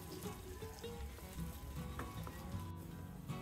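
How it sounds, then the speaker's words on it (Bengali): About a cup of chopped onions fry in oil in a cooking pot, giving a quiet, steady sizzle with faint bubbling and occasional soft stirring knocks, no voices. "2 মিনিটের মতো আমি পেঁয়াজটাকে ভেজে নেব"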